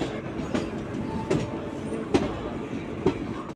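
The Puri Shalimar Garib Rath, running with ICF coaches, rolls into Kharagpur Junction with a steady rumble and evenly spaced clickety-clack wheel beats at moderate distance.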